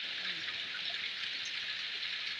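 Heavy rain falls in a constant, even hiss with no breaks, fairly faint and distant, and no clear voices over it.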